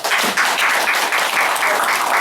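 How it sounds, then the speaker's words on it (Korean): A small crowd at a Go tournament award ceremony in a Seoul Go club applauds warmly, with close, dense clapping that stays loud and steady for a couple of seconds. "뜨거운 박수 부탁드리겠습니다."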